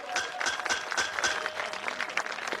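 Clapping from a crowd gathered for a Ram Katha religious discourse, a lively, uneven patter of many hands with sharp individual claps standing out, heard close and continuous throughout.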